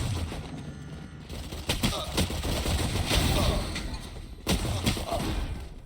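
Gunshots in a Valorant esports playoff match: a dense flurry of rapid gunfire with several sharper bursts over a busy game soundscape, while a caster talks over it.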